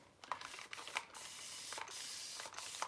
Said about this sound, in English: now spray it with some water